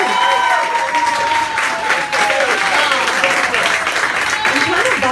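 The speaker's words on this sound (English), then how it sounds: "give a round of applause to your poets this evening" Audience at a poetry slam applauding the poets, a dense sustained wash of clapping from a large crowd with voices mixed in throughout.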